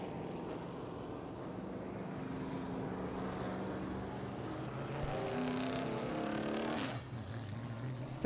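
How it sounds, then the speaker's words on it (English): Modified race car running at a dirt-track Midwest Modifieds event, engine drone heard at a distance and steady as it rolls down toward the pits, with crowd and track ambience around it. "Now Miller's taking his car to the pits."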